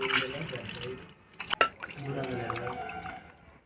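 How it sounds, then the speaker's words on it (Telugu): Water is poured into a bowl to wash small fish, splashing and trickling up close with a brief sharp slosh midway, while a voice talks faintly alongside. "దీంట్లో వాటర్ పోసుకోవాలి ఫ్రెండ్స్"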